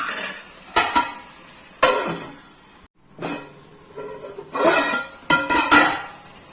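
A lid goes onto a cooking pan of spicy mushroom noodle soup with several close, loud metallic clanks and rattles spread across the moment, then a brief hush.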